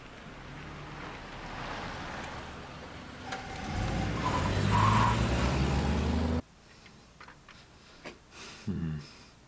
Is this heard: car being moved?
yes